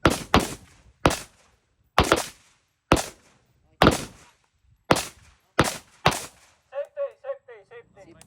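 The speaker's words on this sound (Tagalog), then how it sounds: "Firers, release safety, 5 lang yan ha. commence firing." Rifle fire at a military marksmanship training range, a series of about ten sharp cracks spaced roughly a second apart, followed by a faster string of quieter pops, with no talk over them.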